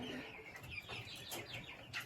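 Chickens and young Wyandotte hens in a coop, soft scattered clucks and chirpy calls coming in short bursts, faint and close-ish over quiet background.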